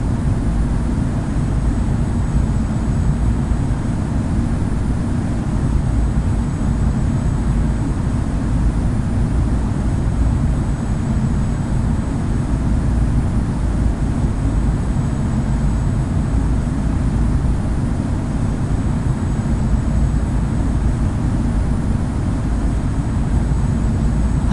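Steady, loud low rumble of a jet airliner's engines spooling for takeoff in Infinite Flight in Jet2 Airlines livery, a constant broadband roar holding level throughout with no voices.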